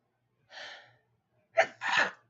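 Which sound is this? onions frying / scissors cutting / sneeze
sneeze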